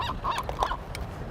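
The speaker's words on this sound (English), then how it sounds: "here goes a seagull" A seagull calls at Mission Beach in San Diego, a few short, nasal, honking cries close by in quick succession over faint background noise.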